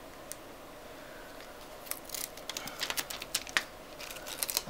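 Adhesive backing being peeled off aluminum foil tape while installing an LB104S01 LED backlight: quiet, irregular crinkling and crackling ticks that grow busier toward the end, with no talking.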